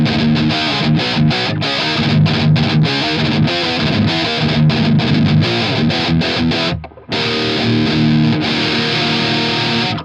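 Heavily distorted electric guitar through the Mercuriall Euphoria plugin on a thrash metal preset, chugging in tight palm-muted bursts with choppy stops, loud and close, with one brief full break near the end before the riff resumes.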